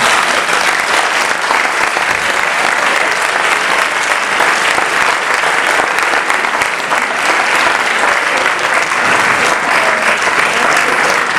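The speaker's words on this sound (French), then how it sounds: "si vous commencez à applaudir, il peut mériter des applaudissements" Loud, dense applause from a large audience at an economics lecture on climate negotiations, continuous and unbroken for over ten seconds with no voice rising above it.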